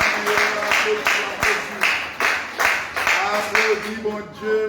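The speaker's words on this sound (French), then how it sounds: "Applaudis mon Dieu." A congregation at a church prayer service claps together in a steady rhythm, about two claps per second, with a sung or chanted voice carrying over the regular beat.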